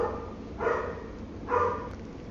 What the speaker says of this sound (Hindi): कुत्ते भौंक रहे थे इसलिए मैंने स्टॉप कर दिया था।